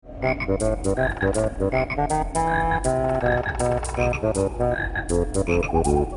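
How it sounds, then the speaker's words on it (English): Frog croaks in Banjo-Kazooie video game music follow the bass line as rhythmic, pitched croaking notes over a bassoon melody. The music is loud and continuous, with no talking. "The next A adds some frog croaks mimicking our bass line."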